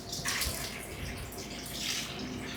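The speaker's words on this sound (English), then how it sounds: "I'm going to pour this in." A hot pot of pasta water poured into a strainer in a kitchen sink, a steady rushing splash of water that holds for the whole stretch, fairly close and alone.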